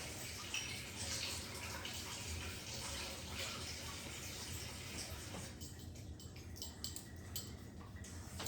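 Steady broadband rush of water flowing from a tap, fairly close, lasting several seconds before quieting somewhat toward the end, with faint clinks.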